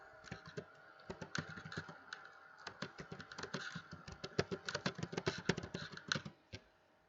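Rapid, uneven clicking of keys on a computer keyboard as a name is typed, a close, steady flurry of taps that thins out and stops near the end.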